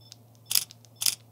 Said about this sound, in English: I hated this shutter sound before,